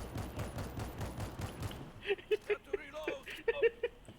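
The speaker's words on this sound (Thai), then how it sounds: "ดูนะปืนนี้มันยิงทีนัดใช่ปะ" Single gunshots from a firearm in the zombie shooter World War Z Aftermath, fired one at a time in an irregular rhythm of sharp cracks, heard after a stretch of dense gameplay noise with people chattering throughout.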